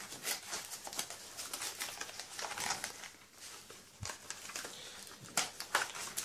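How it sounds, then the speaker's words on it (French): Cardboard packaging of a Hero Strike card game box being torn and opened, faint continuous crinkling, scraping and patter of handling close by, with no speech. "C'est pas tout super facile à ouvrir ce truc."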